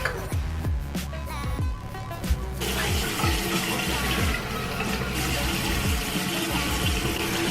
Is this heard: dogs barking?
no